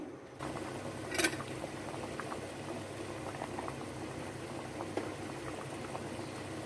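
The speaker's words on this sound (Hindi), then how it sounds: "एक साइड पे दाल को बॉयल करने के लिए, गालने के लिए रख देते हैं" Lentils for dal boiling in a pot, a steady bubbling simmer with gurgles and small pops, fairly close and even throughout, and no speech.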